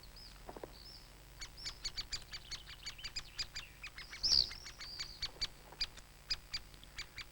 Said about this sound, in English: the swifts are prospecting for next year